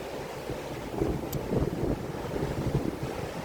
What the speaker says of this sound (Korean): 파도가 이렇게 쳐요.